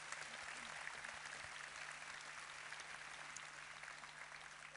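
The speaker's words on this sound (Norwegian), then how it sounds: "gir vi en ordentlig applaus for det fortjener Ole Martin" An audience at an end-of-year staff show for a Norwegian municipality claps steadily and evenly for several seconds, fairly distant and faint, with no voices over it.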